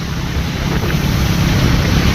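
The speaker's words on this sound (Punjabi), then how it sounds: "ਪੂਰੀਆਂ ਠੰਡੀਆਂ ਠੰਡੀਆਂ ਹਵਾਵਾਂ ਚੱਲ ਰਹੀਆਂ" Cold wind roars past a motorcycle travelling at about 60, a steady, loud buffeting rush with no voices over it.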